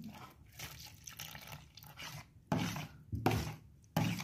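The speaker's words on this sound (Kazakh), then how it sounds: "Оған бірінші суымды құямын" Water poured into beaten eggs in a bowl while making dough for cheese-curd vatrushki buns, heard as a few short splashing bursts with quiet gaps between them, close and fairly soft.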